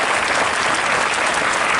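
Students applaud at a school ceremony marking the 75th NCC foundation day at Bharat Commerce Vidyalaya in Nagda, a loud, dense, unbroken wash of many hands clapping close by, with no talking.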